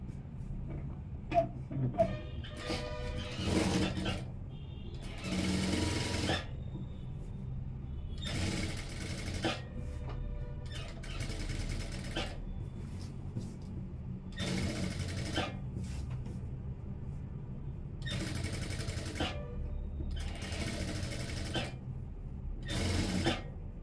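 A sewing machine stitches a churidar just beside a design, running in several bursts of a few seconds each with pauses between, over a steady low background hum; no one speaks.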